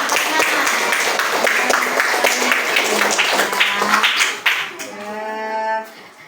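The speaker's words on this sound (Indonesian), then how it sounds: "Tepuk tangan dulu buat kelompok 2 mendapatkan nilai yang terbaik ya" Classroom applause for a student group, a lively patter of children's clapping mixed with voices, giving way to a sustained tonal cheer or call near the end.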